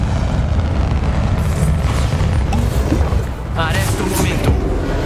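An explosion spell cast in the Hogwarts Legacy video game, a loud rumbling boom with crackling debris mixed into dense game effects and a voice calling out.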